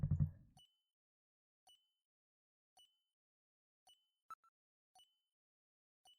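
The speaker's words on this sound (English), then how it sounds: "Listen, you can hear a sound like that of a timer." A timer-like device ticks in the video game Snatcher, giving faint, evenly spaced electronic beeps roughly once a second, about six in a row, after a brief low thump.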